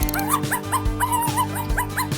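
A dog lets out rapid repeated yips and short barks mixed with whimpering, a close, insistent rhythmic series over a steady background tone.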